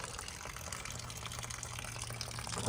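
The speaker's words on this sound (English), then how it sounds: "Let me see how it's draining outside." Water drains out of a Scamp camper outdoors, a continuous rushing, splashing flow at moderate distance that stays steady and swells slightly toward the end, with no talking.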